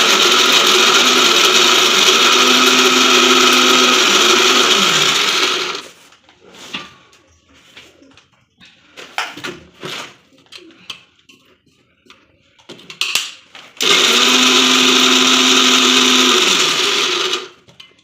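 A home mixer grinder whirs loudly while grinding paste for homemade laddu, running for about five seconds, stopping for several seconds of quiet kitchen clatter, then starting again at full strength.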